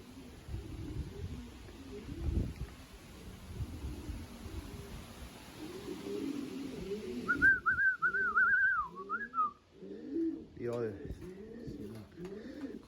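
Racing pigeons coo softly and repeatedly in a loft, with a high whistle-like call partway through and low voices murmuring in the background.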